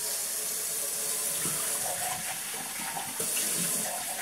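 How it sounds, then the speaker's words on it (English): Water runs steadily from a tap into a sink while something is rinsed out, a continuous close splashing hiss with small shifts in flow. "Just rinsing out this stuff."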